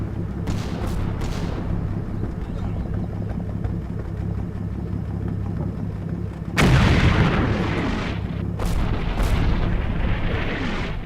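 Artillery barrage in Combat Mission Final Blitzkrieg, heavy booming impacts with a low rumbling background and a louder cluster of blasts partway through, no talking.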